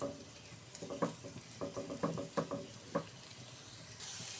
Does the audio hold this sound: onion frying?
yes